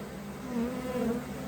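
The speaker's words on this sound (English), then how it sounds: "look at the bees fanning" Honey bees fanning at a hive box during early-season splits make a steady, close buzzing drone that swells slightly midway through, with no voices.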